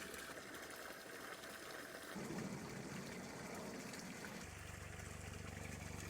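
Water trickles and flows steadily into a decorative pond with a bog filter, a continuous faint splashing wash with a pump hum beneath.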